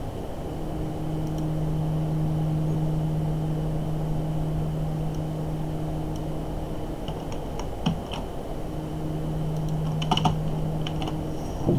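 Scattered keystrokes on a computer keyboard while code is typed, faint isolated clicks and a couple of short bursts over a steady electrical hum, quiet and near.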